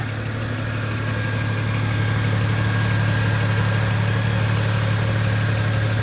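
A BMW 1M Coupe idles after a cold start, its engine humming in a steady, even, low drone, heard up close with no voices.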